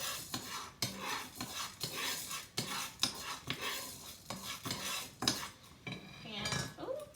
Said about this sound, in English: I took out a spoon, so I'm gonna mix it in a little bit